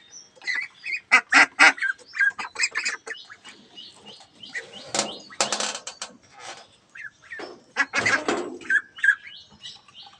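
Peking Star ducks, each around 2.5 kg, quack and squawk loudly on a farm in Uzirpur, Barishal, in repeated bursts of overlapping calls from a close flock, with no talk.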